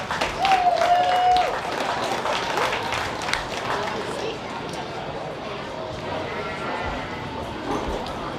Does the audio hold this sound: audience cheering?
yes